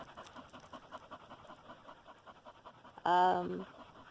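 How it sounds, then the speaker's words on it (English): Rapid, rhythmic panting from dogs inside an RV runs steadily throughout, with a sudden loud, tonal whine or voice burst briefly cutting in near the end. "If you hear the panting in the background,"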